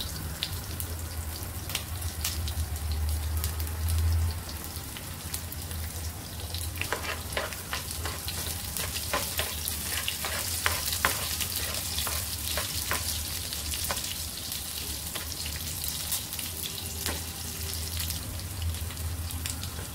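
Chillies frying in hot oil in a pan for garlic puffed rice, with mustard seeds already in the tempering, give a continuous close sizzle with scattered sharp crackles and pops throughout.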